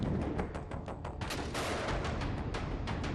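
Ukrainian soldiers' military drill with anti-tank missiles and artillery on a snowy field, a rapid string of sharp gunshots cracking one after another in dense bursts, loud and continuous.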